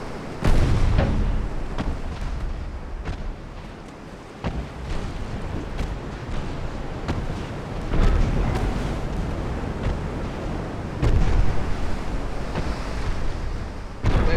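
A 5-inch naval gun firing in Ultimate Admiral Dreadnoughts, heavy booming reports repeating at irregular intervals over a constant roar of sea and wind.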